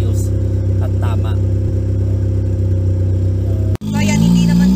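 A custom turbocharged Mazda Miata engine idles during its first tune, a loud, steady low drone with a brief cut near the end before it resumes rougher and higher, while someone talks over it.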